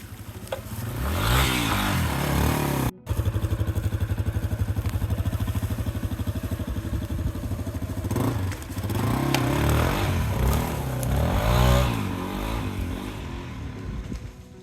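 A Yamaha XT250 dual-sport motorcycle rides offroad, its single-cylinder engine droning steadily close up with rising and falling revs, rattles and scrapes, and a brief cut near the start; no one speaks.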